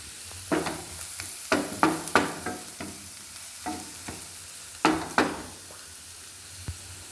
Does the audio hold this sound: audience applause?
no